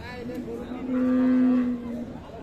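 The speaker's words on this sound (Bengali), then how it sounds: "এই যে দেখছেন যে গাভীটা" A Holstein Friesian dairy cow at a cattle market gives a single long, low moo, close and clear, rising out of quiet background noise.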